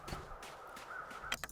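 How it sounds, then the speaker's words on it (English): In The Long Dark video game, a crow caws faintly a few times in quick succession against a quiet, hushed wintry background with no voices. "I heard the birds calling there."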